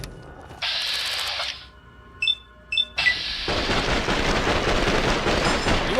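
Gunfire in Fallout: New Vegas, two bursts of loud, crackling shots with a couple of sharp metallic clicks between them, the second burst sustained for several seconds.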